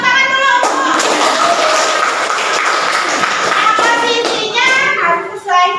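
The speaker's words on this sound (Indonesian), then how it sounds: "tepuk tangan dulu" Classroom of young children at a lesson on congregational prayer clap together loudly, a busy scatter of small hands mixed with children's voices and sing-song chatter.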